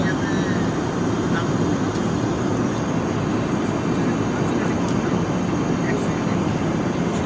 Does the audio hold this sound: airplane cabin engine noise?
yes